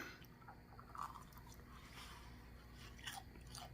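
A bite into a crispy oven-fried chicken wing gives faint, close crunching and chewing sounds, with a couple of sharper crackles, and nobody speaking.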